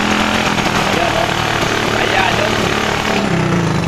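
A 110 cc motorcycle engine with a faulty carburetor idles rough and weak, a steady loud sputtering drone that misfires throughout without letting up.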